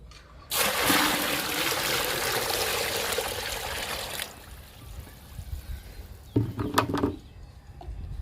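Water pours steadily in a rushing stream for a few seconds as 10 litres are added to a garden plant liquid feed, then stops, followed by sloshing and splashing as it is stirred.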